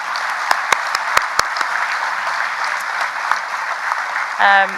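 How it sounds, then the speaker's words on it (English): Steady applause from an audience at a school awards evening, an even, moderately distant patter of clapping with a few sharp nearby claps early on and a brief voice near the end. "I think we should give him a round of applause"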